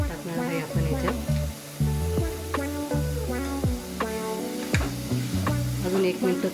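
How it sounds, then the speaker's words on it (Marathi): Carrot halwa is stirred and sautéed in a pan, with repeated scraping strokes of a spoon against the pan over a continuous soft sizzle, close and fairly loud, while a voice speaks intermittently. "अजून 2 मिनिटं आपण चांगलं परतून घेऊ."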